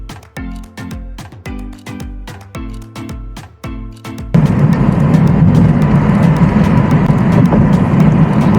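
A car drives along a highway on the road to South Goa, with steady, loud rushing road and engine noise filling the second half after an opening stretch of rhythmic music.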